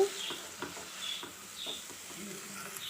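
Utensil stirring and mixing chicken fried rice in a pan, soft rhythmic scrapes and taps over a faint sizzle, quiet and close.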